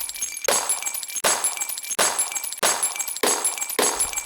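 Glass shattering sound effect in a video game, repeating about six times in a steady rhythm, each a loud, sharp crash with a bright, tinkling, crunchy decay that runs into the next.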